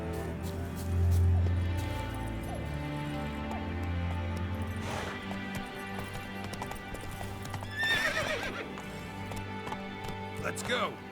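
Roach, the horse in The Witcher 3, gallops with rapid rhythmic hoof clip-clops and a neigh, all set against game music. Someone speaks briefly over the sound.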